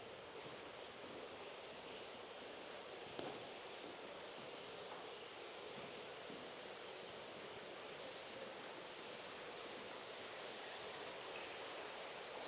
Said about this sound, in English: yes, marvelous fountain.